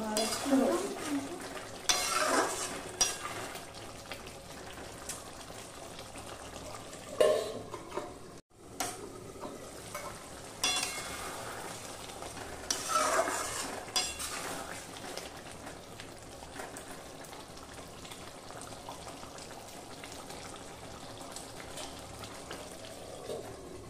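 A ladle stirs pepper prawn masala in a covered pan with green chillies, producing soft scraping and a steady bubbling sizzle, with occasional louder clinks of the lid and utensil against the pan.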